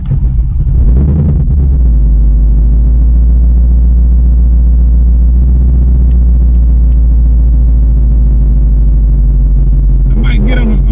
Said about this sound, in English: we're gonna crank up the Bullitt